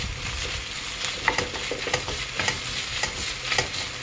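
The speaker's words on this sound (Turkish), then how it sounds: "bir tatlı kaşığı dolusu kadar biber salçası ekliyorum" Red pepper paste sizzles in a hot pan as a spoon stirs it, with close, steady frying crackle and intermittent scraping strokes.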